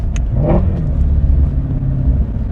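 Shelby GT350 with a 5.2 liter flat plane crank V8, a loud, close engine rumble with a quick rising rev swell early on before settling back to a steady low growl.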